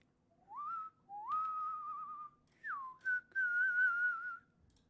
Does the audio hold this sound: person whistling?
yes